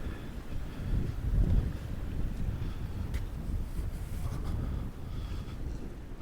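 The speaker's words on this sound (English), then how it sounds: "And by the flag here you can see it's very windy out." Strong wind gusts across an open winter boardwalk at Wildwood, a steady rumbling buffet on the microphone with faint surges and no voices.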